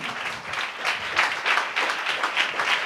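A church congregation clapping their hands together: a dense, continuous patter of many hands with a loose pulsing rhythm, close and fairly loud, with no talk over it.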